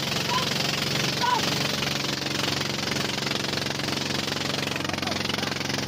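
A fishing boat engine runs steadily with a low throbbing chug, loud and continuous, with faint voices underneath.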